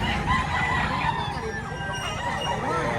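Gamefowl roosters at an expo-style sale crow and cluck in a busy, overlapping chorus, loud and close, while people talk among the birds throughout.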